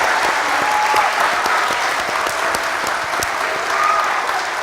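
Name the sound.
audience applause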